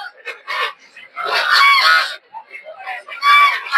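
Large ducks at a village poultry market in Narsingdi let out loud, nasal honking calls in short bursts and overlapping clusters, close by, with quieter gaps between.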